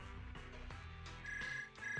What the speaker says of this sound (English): The reporter phone at the scene suddenly started ringing.